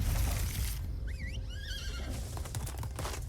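Horse neighing in the card game Magic: The Gathering Arena, one short whinny rising and falling in pitch, heard faintly within a noisy game background.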